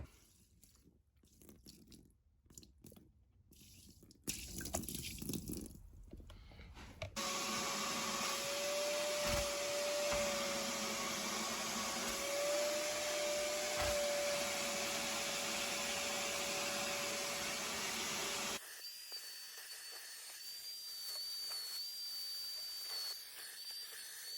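A loud, steady wet-vacuum roar with a gurgling hiss of water being sucked up from a carpet, running for a long stretch before shifting to a higher whine.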